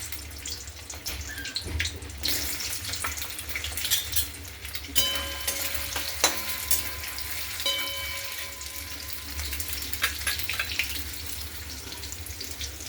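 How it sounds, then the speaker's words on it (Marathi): Steady crackling sizzle of soybeans frying in hot oil in a kadhai, continuous and fairly close, with occasional sharper pops. "इथे मी कढईत दोन पळी तेल टाकलेलं आहे आता आपण हे सोयाबीन फ्राय करून घेऊ"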